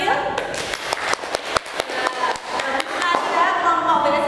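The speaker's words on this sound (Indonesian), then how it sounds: "Mari kita beri tepuk tangan untuk kelompok yang sudah tampil." Students in a vocational high school classroom applaud a group that has just finished its presentation. The hand claps are loose and overlapping, with a few sharper claps standing out. Light chatter runs underneath and carries on as the clapping tapers off.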